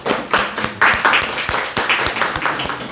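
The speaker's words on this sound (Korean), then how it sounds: "박수로 환영하겠습니다." Audience at a Korean church gathering claps in welcome, a brisk run of clapping throughout, close and fairly loud, with faint voices mixed in.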